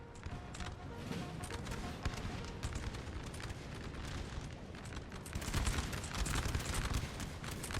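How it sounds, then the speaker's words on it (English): Artillery and musket fire in a Napoleon: Total War battle, a dense rumbling fusillade of overlapping distant booms and cracks that rolls on continuously and swells louder near the end. "there's artillery way back here shooting"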